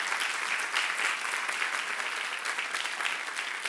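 A youth-group congregation at a Korean church sermon applauds on request, sending up a steady wash of many hands clapping at even volume for several seconds, with no voices over it.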